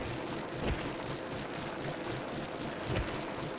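A police motorcycle chases the player in the Bully video game on PC, its engine a steady, rumbling drone blended with wind-like rushing noise, holding even throughout with no talking.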